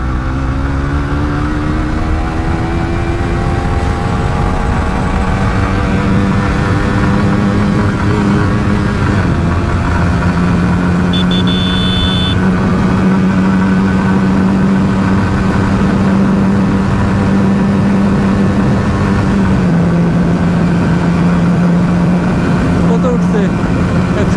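A motorcycle pulls away on an empty road, its engine droning steadily and rising and shifting in pitch as it gathers speed. Wind noise runs loud throughout, and a voice speaks over the ride.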